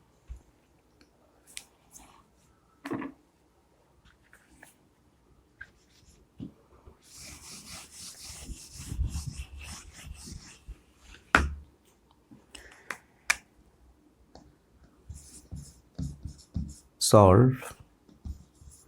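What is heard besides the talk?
writing a math problem on a board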